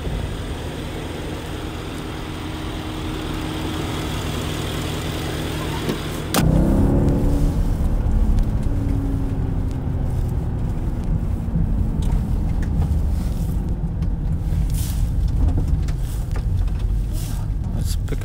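A Mercedes-Benz GLS 580 SUV with a 483-horsepower engine cruises, then rolls onto gravel with a sudden louder rush of crunching tire noise and grit under a steady engine hum, close and continuous.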